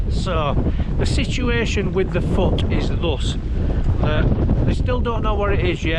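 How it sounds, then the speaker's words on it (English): Gusting wind buffets a microphone outdoors on a Scottish Highlands camping trip, a constant rough rumble running beneath someone talking throughout. "Sorry about the wind."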